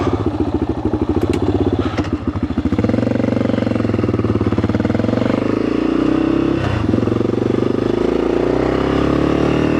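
A Yamaha XT600 dual-sport motorcycle engine idles loudly and close, a little high, starting with a rapid chugging that settles into a steady, raspy rumble with slight wavering in pitch.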